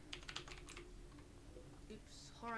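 Keys clatter on a computer keyboard in quick bursts of typing while a horror game is being built in a game editor, faint and under low background noise.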